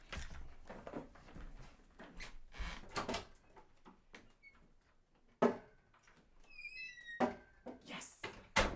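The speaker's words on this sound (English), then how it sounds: "open my door and let my dog in" A door is opened to let a dog in, with scattered clunks, knocks and handle rattles, uneven bursts of movement, a sharp bang midway and faint chirping sounds in a quiet room.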